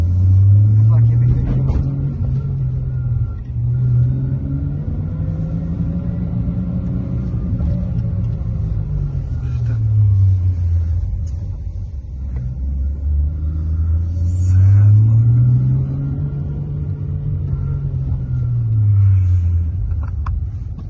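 Toyota Chaser JZX100 with a 1JZ engine idling and running steadily, a low engine rumble throughout, with a voice speaking over it.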